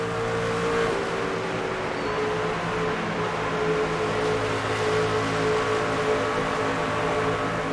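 Race car engine in the NASCAR 25 video game at Texas, a steady loud drone with a sustained tone throughout and no speech over it.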